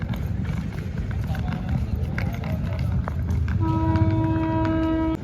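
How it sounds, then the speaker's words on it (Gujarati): A train bound for Kashi pulls into Chhayapuri station with a low rolling rumble, and a loud sustained horn sounds near the end while voices murmur on the platform. "અત્યારે અમારી કાશીની ટ્રેન આવી ગઈ છે અને અત્યારે અમે ટ્રેનમાં બેસીશું।"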